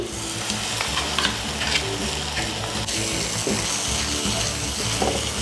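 Ginger-garlic paste and a prepared paste fry and get stirred in a pan for jeera rice onion gravy, a steady loud sizzle with scraping stir strokes throughout, no voices.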